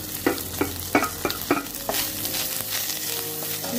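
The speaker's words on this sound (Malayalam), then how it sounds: "തേങ്ങ നന്നായിട്ട് ചുവക്കെ വറുത്തെടുക്കണം" Grated coconut roasting in a pan for an onion sambar, several sharp, close spatula scrapes and knocks in quick succession over a dry sizzle that settles into a steady hiss, no voices.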